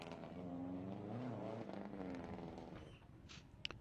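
A rally car working through a bridge chicane: a buzzing engine note rises, then drops in pitch as the car passes at moderate distance and fades, with brief sharp knocks near the end.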